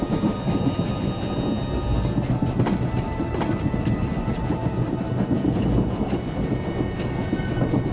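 A train rolls along in Star Wars: The Old Republic, a steady clattering rumble with rhythmic track clicks and a few sharp knocks, continuous and fairly loud with no talk.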